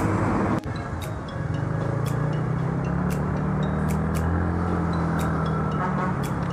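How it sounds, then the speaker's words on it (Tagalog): Road traffic heard while riding a Yamaha motorcycle through congested city lanes, a steady low engine rumble with wind and passing-vehicle noise throughout, no talk. "Nakikita nyo na traffic ngayon"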